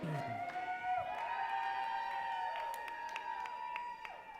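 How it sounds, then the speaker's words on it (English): A wrestling event crowd at the Quarry murmurs and cheers as people keep arriving, a steady wash of voices with sustained whoops and shouts layered over it and a few sharp claps near the end. "We've got a great crowd here at the Quarry tonight as well."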